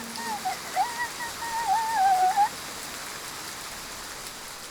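Rain falls as a steady soft hiss throughout, fairly faint, with a bird's chirping warble rising over it briefly near the start.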